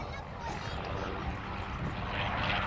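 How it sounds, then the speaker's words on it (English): A P-40 Kittyhawk's Allison engine rasps loudly and continuously as the aircraft accelerates along the crowd line at an air day, a dense roaring blare that swells slightly toward the end. "That lovely rasping sound you hear as the aircraft accelerates along the crowd line, caused by the Allison engine"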